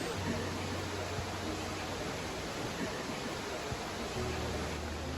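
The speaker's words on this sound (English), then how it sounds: "And we can already hear the waterfall." Steady broadband rush of a large waterfall inside the Eden Project's tropical biome in Cornwall, a continuous even roar from a distance, with a faint low hum beneath and no voices.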